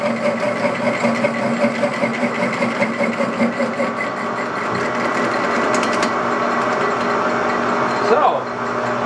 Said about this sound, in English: yes, I have a Harbor Freight tubing notcher.